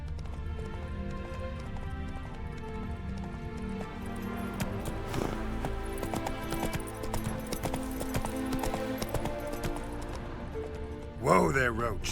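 Roach the horse galloping in The Witcher 3, with rapid rhythmic hoofbeats on ground under a music score, closing with a loud whinny and a voice.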